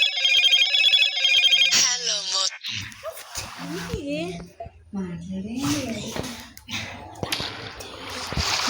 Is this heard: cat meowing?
no